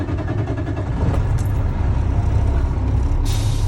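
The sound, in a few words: truck engine starting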